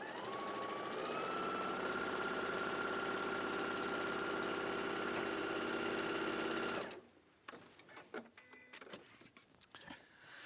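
A sewing machine stitches a quarter-inch seam on a William Morris quilt block, running as a steady close mechanical whir for about seven seconds before stopping abruptly, followed by light handling clicks and rustles.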